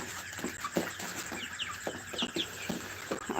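Tiger chickens on a farm cluck repeatedly in short, scattered calls with a few higher chirps mixed in, moderately close over a steady background hiss.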